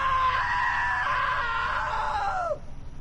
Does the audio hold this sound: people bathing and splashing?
no